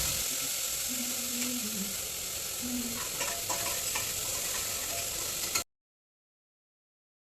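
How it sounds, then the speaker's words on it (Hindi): Vegetables fry in a hot tadka tempering with chopped onion and tomato. A steady close sizzle runs with faint stirring clinks and scrapes, then cuts to silence near the end. "प्याज टमाटर सब मैंने पहले ही चॉप करके रख लिया है, अब बस सब्जी को लगा दूंगी मैं तड़का"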